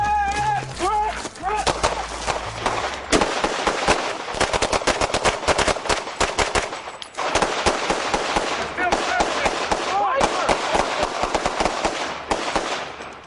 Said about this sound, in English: Did you hear the shotgun on the side of you?